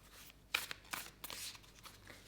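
Oracle cards are shuffled during a tarot reading: a few soft, brief papery riffles and flicks come in short separate bursts, close but quiet, with no talking.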